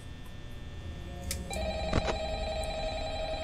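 A telephone rings in Five Nights at Freddy's Help Wanted VR, a shrill electronic bell tone starting after a brief click and repeating in short bursts over a steady low hum.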